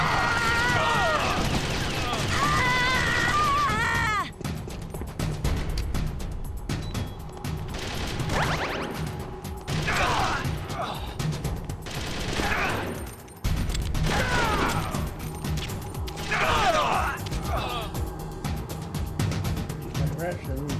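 Gunfire in the video game Metal Gear Solid: The Twin Snakes, set on Shadow Moses Island, rattles in repeated bursts beneath ongoing dialogue and music across the whole stretch.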